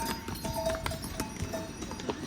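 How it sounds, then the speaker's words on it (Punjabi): Horses' hooves clip-clop at a steady walking pace on the mountain trail from Govindghat to Govind Dham, moderately distant and fairly quiet, with no voices over them. "ਤੇ ਉੱਪਰੋਂ ਆ ਰਹੇ ਨੇ ਘੋੜੇ"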